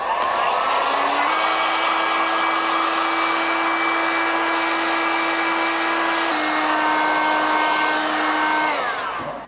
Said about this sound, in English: I'm gonna give them both a quick blast with the heat gun before I attach them together.